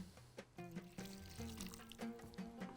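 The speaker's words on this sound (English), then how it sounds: "I'm going to add a little bit more water." Water is poured into a pot of Bahraini salona stew, a quiet trickling pour in short spurts over faint kitchen sounds.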